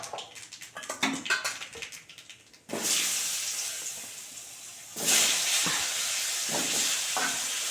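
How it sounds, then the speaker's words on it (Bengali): New potatoes dropped into hot oil with black cumin seeds, starting as soft stirring and crackle, then bursting into a loud steady sizzle that swells again midway, close up with no talk. "নতুন আলু তো, একটু ভালো করে আলুটা ভেজে নেব।"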